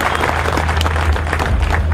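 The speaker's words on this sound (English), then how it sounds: "let's a big round of applause for guest of honor and the passion patron, Mr. Amitabh Bachchan" Steady applause from an event audience at a launch attended by Amitabh Bachchan, a dense, even wash of clapping held at a constant level throughout, with a low hum underneath.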